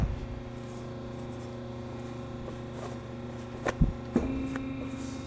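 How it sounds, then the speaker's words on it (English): A Permaboss NGE embossing press hums steadily at a low level, with a couple of sharp mechanical clunks and a short rising whine near the end as it operates. "The embossing press just came up."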